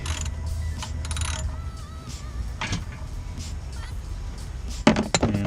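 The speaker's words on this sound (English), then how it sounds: "we're going to take a 13mm socket and pop open the" A 13mm socket ratchet turns on the oil drain port of a Dodge Challenger Scat Pack with a 6.4L 392 Hemi, giving mechanical clicks and metallic clatter over a low background rumble, with a sharper clank near the end.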